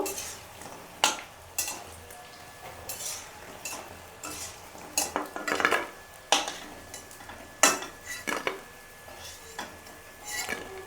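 Fried paneer pakoras are lifted out of a pan of hot oil at home, with repeated scraping and clinking of a utensil against the pan over a faint background sizzle, in irregular bursts throughout.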